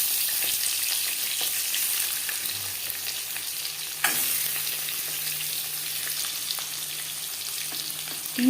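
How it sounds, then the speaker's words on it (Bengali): Eggs fry in a wok (kadai) for an egg curry, giving a dense, even sizzle with occasional stirring scrapes, close up and with no talking. "এভাবে ভাজলে কড়াইতে ডিম লেগে যাওয়ার সম্ভাবনা কম থাকবে।"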